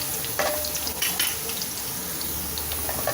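Ginger and garlic sauté in a pan for Schezwan fried rice, giving a steady close sizzle and frying hiss with light stirring scrapes throughout.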